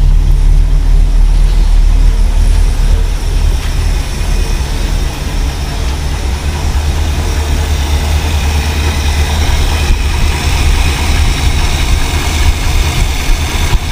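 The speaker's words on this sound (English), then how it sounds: "It's a nice running little engine." A 1969 Mercury Marquis Brougham's 429 V8 engine with four-barrel carburetor idles steadily with a deep, continuous rumble, loud and close, holding an even tone throughout without revving.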